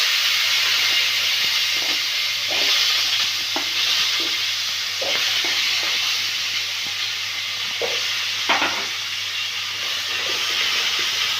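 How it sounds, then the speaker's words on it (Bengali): Diced potatoes frying in a wok with turmeric and salt give a loud, steady sizzle and hiss, with scattered scraping stir clicks and no voices. "দিয়ে এখানে ডুমো করে কেটে রাখা আলুগুলোকে আমি প্রথমে ভেজে নেব।"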